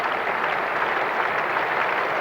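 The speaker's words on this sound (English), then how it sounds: "England players joining in the applause" Crowd applause at a Lord's cricket Test match between England and Australia in 1980, a steady, even wash of clapping from a large crowd throughout, with no voices over it.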